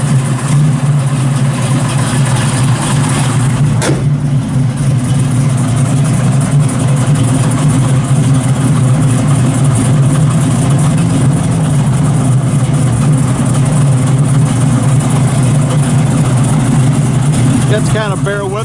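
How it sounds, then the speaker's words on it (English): A 1968 Chevrolet Camaro with a 496 stroker V8 idles steadily with a deep, loud rumble on a cold day, someone talking over the engine throughout. "It's got a 496 stroker motor."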